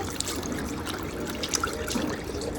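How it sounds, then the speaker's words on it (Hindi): Tap water running steadily while someone washes their face, a continuous close trickle and splash with small bright drips throughout. "चलिए अब उसके बाद मुंह धो लेते हैं थोड़ा सा।"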